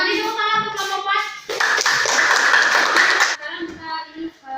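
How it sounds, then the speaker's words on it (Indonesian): A classroom of pupils bursts into about two seconds of lively applause for a student group, with talking before and after the clapping. "Tepuk tangan untuk kelompok 4"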